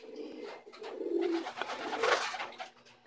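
Racing pigeons at a loft during summer race training in Batangas and Quezon, with soft repeated cooing and bird calls running continuously at moderate, close range.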